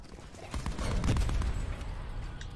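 Gunfire in Call of Duty Black Ops 4 Zombies, a rapid burst of sharp shots and impacts over game noise, loud and close for about two seconds.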